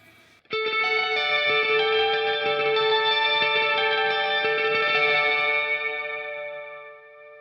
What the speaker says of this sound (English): the mix knob of the reverb, the more you mix in, the more verb you're going to get